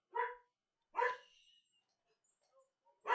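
A dog barks outside a house: three separate sharp barks spaced about a second apart, muffled and moderately distant, with quiet gaps between them.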